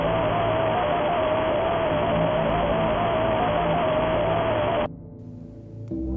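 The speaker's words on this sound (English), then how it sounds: "That sound is also used for Nightmare's jump scare." Nightmarionne's jump scare screech from the FNAF horror game: a loud, sustained harsh noise burst with a steady wavering tone on top, cutting off abruptly after about five seconds into a low rumbling tail.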